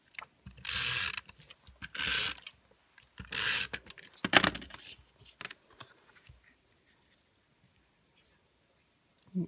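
A snail adhesive tape runner applying glue to a card base, giving several short ratcheting clicks in bursts close by. Quieter handling taps follow, then near silence.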